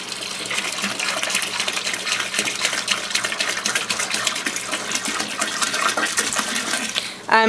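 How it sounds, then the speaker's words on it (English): Grape juice concentrate poured into a batch of peach wine, a steady gushing, gurgling stream of liquid running several seconds before a brief knock at the end; no talking. "I'm also adding the grape juice concentrate."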